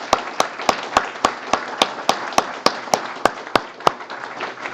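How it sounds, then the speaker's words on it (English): Sparse, evenly spaced hand claps ring out at a sailing hall of fame induction ceremony, about a dozen sharp claps over a soft background murmur, fairly close and moderately loud. "So I just want to put a round of applause for Rob."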